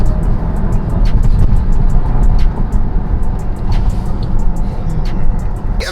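Tesla Model Y on TEIN Flex Z coilovers driving, a steady broadband road and tire rumble with low engine-like drone filling the cabin throughout, punctuated by faint ticking knocks.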